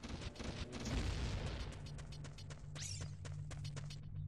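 A dense, rumbling wall of synthetic chain explosions from The Legend of Zelda: Ocarina of Time's Dodongo's Cavern rolls on continuously, with sharp bursts layered over a low steady drone.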